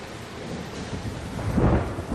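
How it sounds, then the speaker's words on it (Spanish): Heavy downpour with rolling thunder, a dense roar of rain under a deep rumble that swells loudly toward the end, close and without voices. "La lluvia se adueña de la Terra Alta"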